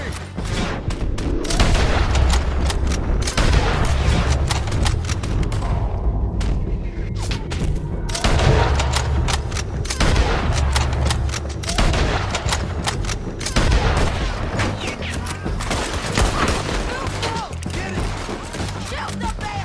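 Sustained Red Dead Redemption 2 gunfight, with dense volleys of rapid gunshots, booming blasts and rolling rumble that run almost nonstop at high volume. Brief lulls break the firing, and voices shout over it in places.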